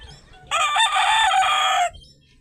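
A single rooster crows loudly and close for over a second, among stag chickens and chicks at a breeder's yard, with faint clucking before and after.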